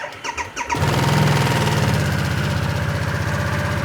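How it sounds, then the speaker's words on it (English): A stock-exhaust Harley-Davidson Nightster, 2024 model, cranks briefly, then catches and settles into a loud, steady, close-up idle with a rhythmic low pulse and noticeable mechanical engine noise. "This is a stock Nightster. It'll have the same exhaust as the S. And you'll hear exactly what this sounds like."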